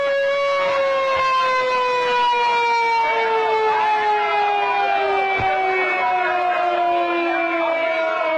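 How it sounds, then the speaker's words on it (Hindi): A fire brigade siren wails during an emergency mock drill in Srinagar, a loud sustained tone slowly gliding downward in pitch for the whole stretch, with faint background noise beneath it. "सायरन बज रहा है"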